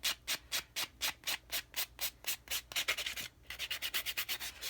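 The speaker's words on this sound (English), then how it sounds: "So this nail is filed, and we're going to buff it now." A filed fingernail being buffed smooth by hand, giving close, rhythmic scratchy rubbing strokes, about a dozen even passes followed by a short pause and then a quicker run of strokes.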